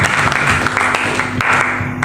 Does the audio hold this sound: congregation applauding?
yes